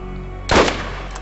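A single loud, sharp shot of gunfire from the video game Borderlands, with a short blast and a quick decay over a steady low background hum.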